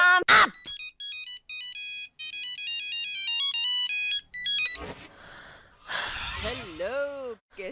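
A phone ringtone plays a bright, chiming melody for an incoming call for several seconds, then cuts off, followed by gasps, breaths and a voice.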